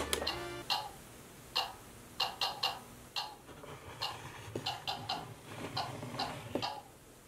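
A My Singing Monsters toy action figure in try-me mode plays its short sound, a quiet series of irregular ticking, clicky bursts at close range with no talking.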